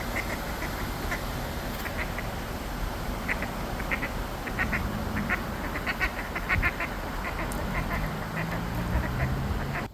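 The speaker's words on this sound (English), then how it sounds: "I'm going to leave a good amount of footage of ducks just standing there" Ducks at a quiet park pond give repeated faint quacks and honks over a steady outdoor background hiss, with the calls scattered and somewhat distant.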